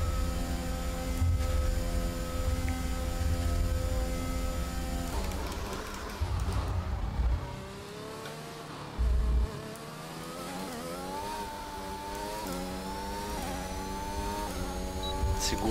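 A Williams Formula 1 car in the F1 2021 racing game buzzes through practice at the Japan circuit, its engine whine rising and falling through gear changes with brief thumps, under a player's commentary.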